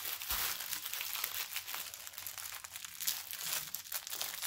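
Plastic packaging of a diamond painting kit being opened, a quiet, continuous crinkling and rustling handled close up.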